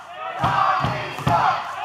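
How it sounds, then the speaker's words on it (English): A large crowd at a professional wrestling event chants loudly in a steady rhythmic cadence, voices swelling together on each beat of the chant. "the crowd's chanting Tommy sucks here"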